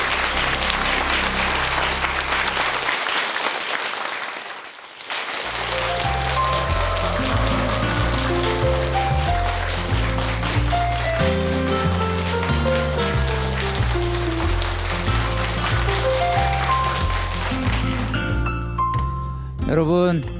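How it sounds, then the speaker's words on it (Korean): An audience at a Korean lecture on the Creator of heaven and earth applauds and cheers. The clapping is loud and sustained, dips briefly near the middle, then continues alongside bright musical tones. "방금 박수를 치시면서 또 함성을 질러주신 분들 몇 분 계신데"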